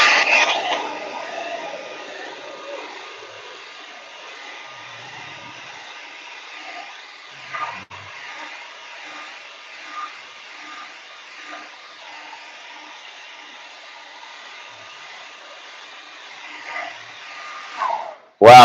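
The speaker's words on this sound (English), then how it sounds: "It's a pink hair dryer." A pink hair dryer blows a steady, airy whoosh for a long stretch during a live painting session, holding an even level with a few small bumps before it cuts off.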